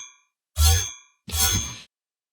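Synthesized magic weapon effect made in Phase Plant for a Unity 3D game: two bright, metallic, ringing hits about three quarters of a second apart, each with a deep thump underneath and a shimmering tail, after a fading tonal ring.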